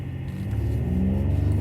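Mercedes-Benz GLE 63 S engine on a road test, a steady low rumble that swells and builds as the SUV accelerates, close and continuous with no talking.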